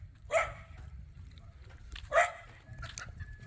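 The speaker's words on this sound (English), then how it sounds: "Why are you barking at me?" A dog barks twice at a person on a roadside trip between Ganta and Sanniquellie, Liberia. The two short barks sound moderately close, and a third fainter yelp follows over low outdoor rumble.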